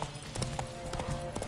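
Roach the horse from The Witcher 3 trots in a steady run of hoof clip-clops, close and fairly loud over a game soundscape with a faint murmur of other sound.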